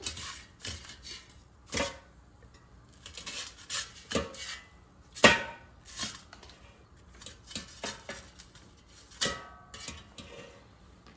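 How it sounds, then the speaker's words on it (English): Pork chops flipped with tongs in an air fryer basket: a series of separate close clacks and scrapes of metal and meat at irregular intervals, with quiet gaps between, no talking. "let's flip the pork chops to the other side so they cook evenly"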